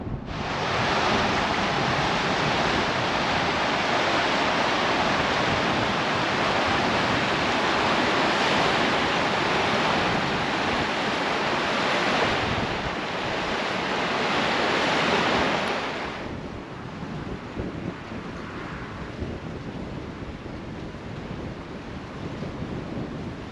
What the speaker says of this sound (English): this is a submerged weir, and this is one of the most dangerous parts